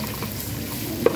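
Fish with tomato and tamarind is stirred in a frying pan, a brief close sizzle with scraping and one sharp clack near the end.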